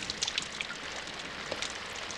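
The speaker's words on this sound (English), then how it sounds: "Entranced by the sound of the rain pattering against the window, I fell into a slumber." Rain patters against a window in the video game Symphonic Rain, a continuous soft hiss scattered with brief, bright droplet taps, some close and crisp, others fainter, with no voices.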